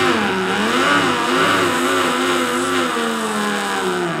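A loud, throaty V8 engine revving steadily, its deep rumble rising and falling as it holds a high idle close by.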